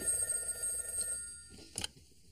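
A telephone rings in a sitcom home setting, an electronic ring tone in steady pulses through most of the moment, then a short louder burst near the end before it stops.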